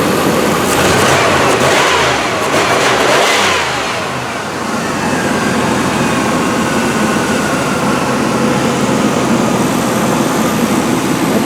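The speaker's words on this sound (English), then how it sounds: "It's just an absolutely wonderful running engine." A 1995 Cadillac Sedan DeVille engine, not a Northstar, revs up loudly, then settles into a steady, smooth idle drone heard up close with no talk.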